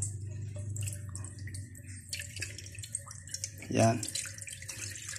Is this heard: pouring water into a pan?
yes